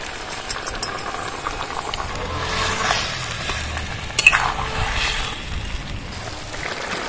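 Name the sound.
fried fish pieces sizzling as they are added and stirred into curry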